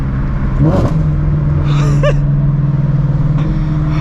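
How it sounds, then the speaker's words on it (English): Supercharged 2004 Ford Mustang GT V8 running after a downshift, a steady low engine drone with a few sharp pops and crackles near the start and middle, loud and close. "I mean, like the backfires and pops after the downshift."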